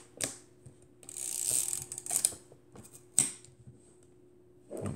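An Exakta Varex IIa, a 1950s East German SLR, has its shutter cocked and released at 1/25 second, giving close, quiet mechanical clicks and ratcheting whirs with a few sharp snaps.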